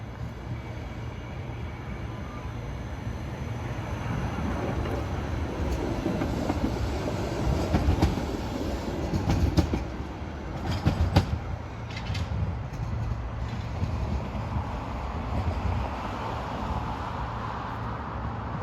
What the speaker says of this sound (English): Got a departing train here. It's going to go through the switch.